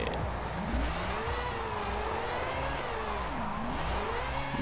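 Engine of a 2002 Mazda RX-7 Spirit R Type-A drifting in Forza Horizon 5: a steady, loud, continuous mid-pitched whir with rising and falling revs as the car slides through turns, heard alone without talk.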